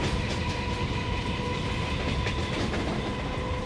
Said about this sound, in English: you hear a little bit of wheel beating on the tracks